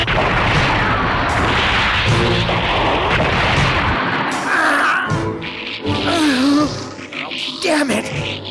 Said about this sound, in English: The dramatic spectacle of space war is much like a fireworks display. But with each excitingly beautiful explosion